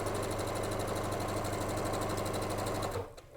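A sewing machine runs steadily, stitching pieces of flannel quilt fabric with a fast even whir for about three seconds before stopping abruptly.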